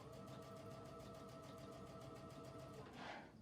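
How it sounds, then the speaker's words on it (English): A sewing machine runs steadily, stitching elastic into a fabric face mask, its needle pulsing in a quick even rhythm close by, with a brief scrape of fabric near the end. "Continue stitching until the elastic is stitched."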